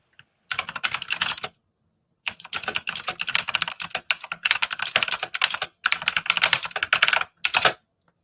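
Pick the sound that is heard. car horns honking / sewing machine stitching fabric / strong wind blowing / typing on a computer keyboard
typing on a computer keyboard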